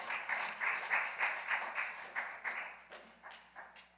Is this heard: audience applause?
yes